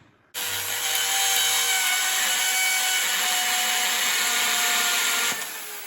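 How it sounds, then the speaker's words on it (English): A power drill bores a hole into a tennis ball, starting abruptly and running as a loud, steady high whine with a gritty rasp for about five seconds before winding down, with no talking. "Drill a hole in a tennis ball"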